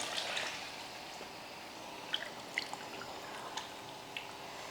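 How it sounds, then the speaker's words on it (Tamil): Water trickles and drips into a cooking pot while chicken biryani is being made, faint and close, with a few small splashes standing out over a soft steady background. "இந்த பாத்திரத்தில் ஒரு பாத்திரம் ஃபுல்லாக தண்ணி"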